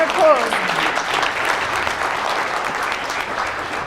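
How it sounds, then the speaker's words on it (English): Audience applause at a conference session at the Orange Tree Resort fills the room steadily for about four seconds, with a brief voice at the start riding over the clapping. "Give her a big round of applause."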